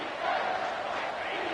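A stadium crowd roars steadily in a College Football 25 game before a third-down defensive play, a dense wash of cheering voices that stays loud and even throughout.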